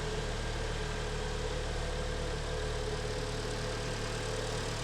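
Hyundai ix35 with a G4KD engine idling as it warms up, a steady close engine drone with a low, faint knocking running underneath, with no talk.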